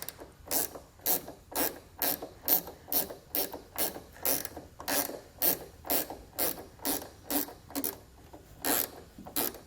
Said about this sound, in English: So I'm going to take a 10 millimeter and get this one completely pulled out.